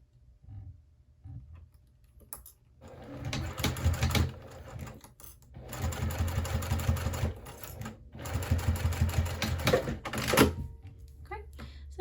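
Sewing machine stitching down the side of a Mini Magda circle-style wristlet, running in three sustained bursts separated by short pauses, with soft handling noises and brief talk in the gaps.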